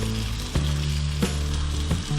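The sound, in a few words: chicken sautéing and sizzling with spices in oil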